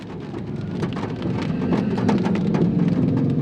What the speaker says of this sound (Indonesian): Dan ini udah mulai reda hujannya sedikit